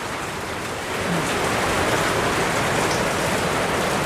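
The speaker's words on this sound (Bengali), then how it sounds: "এই তো আজকে দেখেন বৃষ্টি খুব সকালে" Early morning rain pours down in a Bangladeshi village, a dense, loud, even roar of drops on surfaces that swells slightly after the first second and continues steadily.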